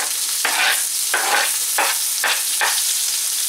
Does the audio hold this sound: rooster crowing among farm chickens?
no